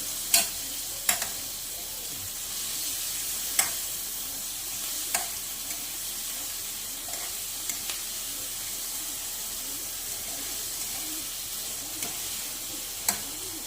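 Food sizzles and fries steadily in a pan while it is stirred, with a constant hiss broken by occasional sharp scraping clicks of the utensil against the pan.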